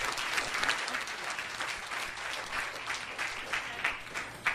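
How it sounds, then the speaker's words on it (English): Lively applause from a crowd at a youth summit, loud rippling claps with uneven swells rather than a steady wash, running for a few seconds. "Y'all give him a great big round of applause."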